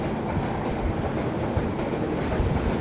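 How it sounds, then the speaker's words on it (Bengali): A train rolls past the rail crossing gate at Salna Bazar in Gazipur, a loud, close, continuous rumble of wagons with a steady rhythmic clatter of wheels on track. "ট্রেন যাওয়ার সময়"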